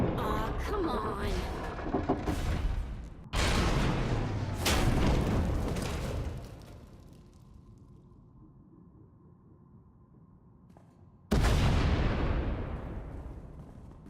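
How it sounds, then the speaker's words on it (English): Loud explosive booms tied to a tunnel collapse: a heavy blast, a second burst, a fading rumble, then another sudden boom near the end, with voices under the first part. "We heard explosions."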